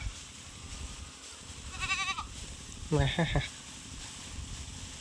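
Two short goat bleats from goats on a railway track, one wavering and the next louder and closer, over a steady rumbling background.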